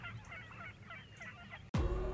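Wild Rio Grande turkeys flock on a Texas ranch, with repeated clucks and gobbling calls at moderate distance before a sudden loud rumble cuts in near the end.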